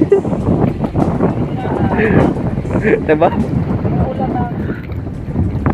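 Strong wind buffets the microphone in a constant low roar, with a voice speaking briefly over the gusts.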